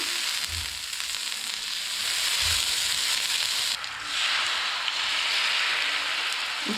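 Bread sizzling in butter on a hot iron tawa, a steady loud crackling hiss that runs throughout with a couple of soft low thumps and a brief dip partway, with no talking.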